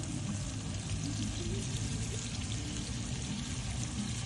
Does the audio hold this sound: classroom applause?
no